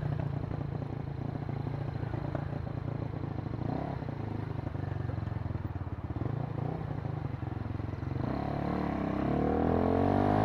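A Kymco K-Pipe motorcycle engine drones and revs steadily throughout a ride in traffic, with wind rush and the engine note rising near the end.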